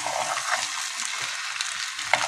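Vegetables sautéing in a pan with tomatoes and chiles, giving a brief, close, steady hiss of frying with light stirring movements and a small tap near the end.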